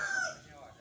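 A single short rooster crow, fairly faint and slightly distant, tailing off quickly.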